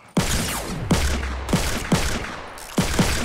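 Five evenly spaced, booming gunshots in Fortnite, each sharp crack followed by a long reverberant tail, loud and close with no talking over them.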